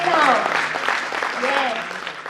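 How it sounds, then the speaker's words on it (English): Conference audience at an international sports and exercise medicine event applauding, a dense crowd of clapping with raised voices and cheering mixed in throughout, steady and fairly loud. "So big round of applause for our team spirit."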